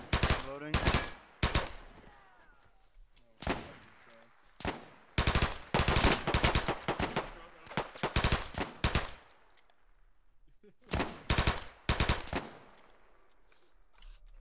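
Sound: machine gun fire in a WW2 Normandy video game

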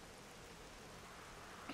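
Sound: rain in the video game 7 Days to Die

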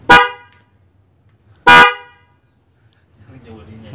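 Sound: snail-type dual-tone car horn

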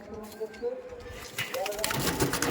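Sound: pigeons in a loft

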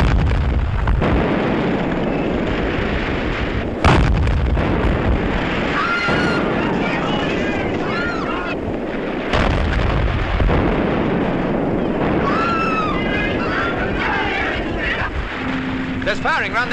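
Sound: gunfire and shell explosions near a headland

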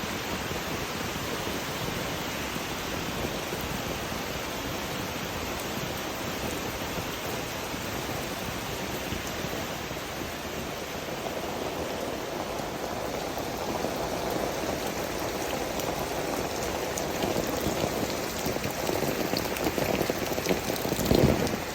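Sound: heavy rain falling

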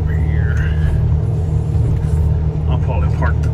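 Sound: truck engine running while hauling hay

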